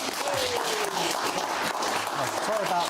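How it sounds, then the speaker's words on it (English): Studio audience applauding a broadcaster guest as he is welcomed onto a TV talk show, a steady wash of clapping throughout with faint voices underneath. "Yeah, you can applaud him."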